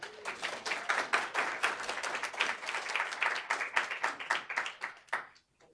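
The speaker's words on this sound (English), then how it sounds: "Can we give her a round of applause?" A conference audience gives a round of applause: dense, fairly distant clapping from many hands holds steady for several seconds, then thins and fades out.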